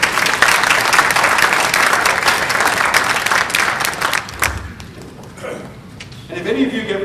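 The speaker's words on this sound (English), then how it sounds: "let's give them a round of applause" Audience applause for a panel at a talk on safe driving in your eighties, a dense steady clatter of many hands that fades after about four seconds, leaving quieter room sounds and a voice near the end.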